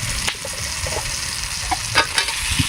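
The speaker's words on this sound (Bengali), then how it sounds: "মশলার মধ্যে আমরা কষে নেবো।" Raw potatoes sautéed in spice masala in a pan, a dense sizzle with intermittent scraping and stirring knocks heard up close, no speech.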